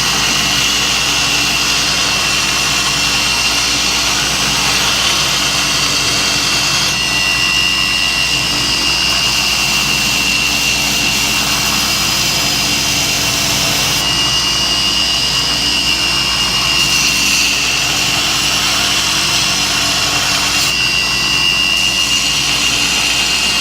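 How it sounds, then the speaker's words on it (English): An 80-grit belt grinder works a 5160 oil-quench coil spring steel knife blank, a loud continuous abrasive whine and roar with brief shifts in pitch as the steel is pressed and repositioned, no voices. "I'm just going to take it over to the belt grinder, get the profile trued up, strike the bevels in."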